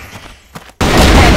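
A grenade blast in the video game Crossfire West on a Halloween map: quiet, low thumps give way to a sudden loud, broadband burst that stays sustained and roaring to the end.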